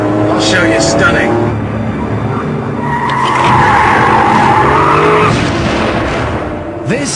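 Tyres of a Porsche 911 Carrera 2S squeal in a long, loud skid alongside the car's engine note, sustained and close for several seconds with a voice talking over it.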